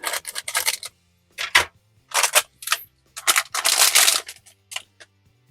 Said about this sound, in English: let's take our scissors and let's open it on up